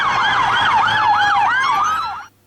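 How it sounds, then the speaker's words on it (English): A British police car siren wails in a steady, rapid up-and-down rise and fall, loud and close, filling the whole stretch alone before cutting off abruptly at the end. "this is what a British police car sounds like"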